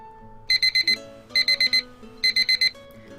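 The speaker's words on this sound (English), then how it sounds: "As the timed alarm goes off, Amane returns to the lobby" A timed alarm clock in the visual novel The Fruit of Grisaia rings in three bursts of four sharp, loud electronic beeps, with a soft background music bed running underneath.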